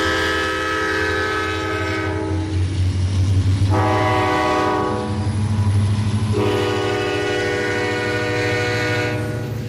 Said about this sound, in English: Cincinnati rolls through Bluffton behind another C40-9W and a high-nose SD40-2